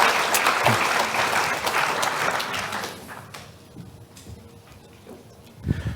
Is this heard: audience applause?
yes